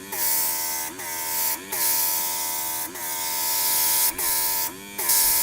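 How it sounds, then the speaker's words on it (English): A large air compressor under a Work MakerX airbrush runs with a steady, droning mechanical hum, briefly dipping and cutting out at regular intervals as the airbrush trigger is worked. "large compressor underneath my airbrush, but it seems to be doing a nice job"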